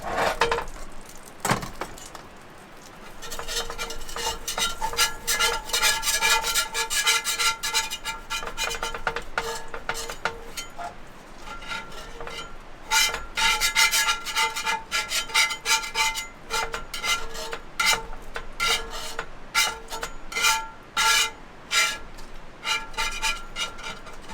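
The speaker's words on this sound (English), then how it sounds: "So I'm going to scrape this out a bit." A metal utensil scrapes out a cooking pan at a rainy car-camping site, giving a long run of harsh, rapid rasping strokes in close, loud bursts with brief pauses between them.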